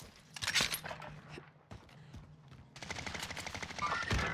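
Gunfire in a tactical video game comes in quiet, distant bursts and scattered shots, followed by a denser run of rapid firing near the end.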